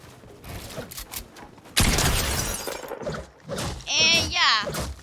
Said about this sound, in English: after you pickaxe the wall,